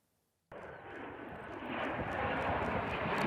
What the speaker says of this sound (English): A joint fighter jet exercise between French and Italian air forces in the skies above Estonia.